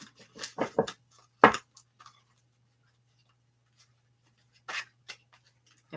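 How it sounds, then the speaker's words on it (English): A tarot deck is quickly shuffled by hand: a few short, crisp bursts of card riffling and flicking close by, separated by quiet pauses, with one more brief burst near the end. "Okay, quick shuffle."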